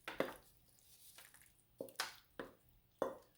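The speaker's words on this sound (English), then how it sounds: "We're going to go ahead and transfer our mac and cheese" Mac and cheese scooped and dropped into a foil pan, a handful of soft wet thuds and squishes spaced irregularly, close and fairly quiet with no talking.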